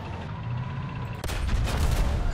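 Gunfire strikes an SU-25SM3 attack jet in a combat flight game, a sudden sharp impact followed by a dense, rumbling burst of rapid hits over steady engine drone.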